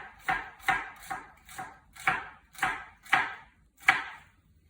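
Knife chopping shallots on a cutting board, eight sharp, evenly spaced strikes in a steady rhythm, close and clear with no talking.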